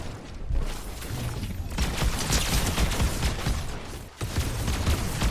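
Rapid pistol fire rings out in the video game Fortnite, a fast, dense string of loud shots that runs almost unbroken, with a brief pause before it resumes.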